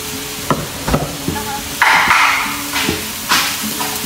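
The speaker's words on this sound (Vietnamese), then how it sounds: "Rồi trộn đều vào." A beetle-larvae dish with butter, spices and herbs is stirred as it fries in a pan. Repeated scraping strokes cut over a continuous sizzle, with no one talking.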